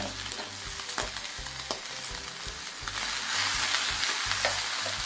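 Pork belly sizzles and fries on a Korean barbecue grill, a steady close crackle with scattered sharp spits and pops, growing a little louder toward the end.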